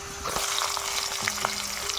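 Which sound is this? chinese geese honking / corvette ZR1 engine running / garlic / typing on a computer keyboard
garlic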